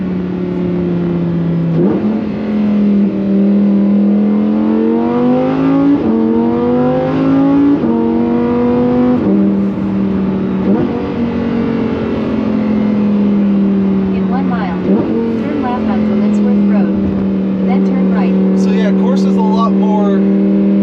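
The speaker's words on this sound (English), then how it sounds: "Now the exhaust valves are opened. Now we're gonna put it into Corsa." A Lamborghini in Corsa mode with its exhaust valves open, revving hard through repeated rising pitch sweeps as it goes up the gears, loud and close, with brief dips between shifts.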